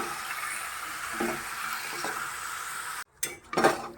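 Chicken sautéed with masala in a pan gives a soft, steady sizzle with a few scraping stirs, then breaks into louder clanks of utensils against the pan near the end.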